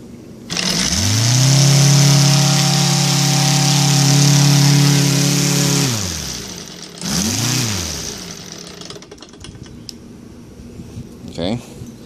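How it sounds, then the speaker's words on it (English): An OS Sirius five-cylinder radial model engine, hot from earlier running, fires up and runs loud and steady for about five seconds, then cuts, briefly revs again and dies away; a few clicks follow. "Engine starts pretty easy even now that it's hot"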